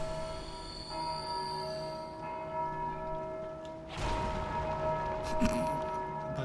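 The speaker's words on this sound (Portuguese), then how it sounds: "Bati no sino de novo." A bell is struck in the video game Dark Souls 2, a bright ringing tone that blooms suddenly and lingers over steady ambient game drones, with a second sharp hit shortly after.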